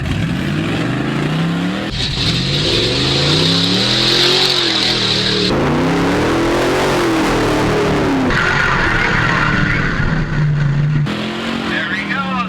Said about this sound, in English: When I was going through the mud bog and flipping the steering wheel back and forth as fast as my hands could move